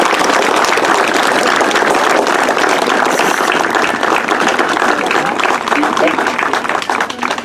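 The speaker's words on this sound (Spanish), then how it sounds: "Demos un fuerte aplauso por Cristóbal." A crowd at a farewell for Sergeant Cristóbal gives steady, dense applause, loud throughout and tapering slightly at the end.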